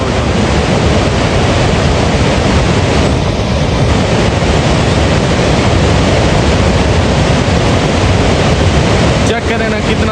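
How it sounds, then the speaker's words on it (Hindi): The Neelam River in Kashmir rushes loudly through a narrow gorge with a constant, dense roar of turbulent water that fills the whole stretch, with no voices heard. "जहाँ से कहीं जगह तंग आती है ना वहाँ से इसका प्रेशर और शोर दोनों चीज़ें बहुत ज़्यादा हो जाती हैं।"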